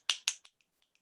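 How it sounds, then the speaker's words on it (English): Finger snapping during a children's sing-along, two crisp close snaps in quick succession followed by fainter, smaller snaps trailing off. "snap your fingers."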